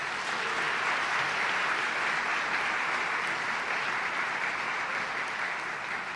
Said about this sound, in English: Now let's have a round of applause for all of our sponsors.